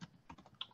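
Brief, quiet run of keystrokes on a computer keyboard, a handful of soft clicks in quick, irregular succession, close by with no voice.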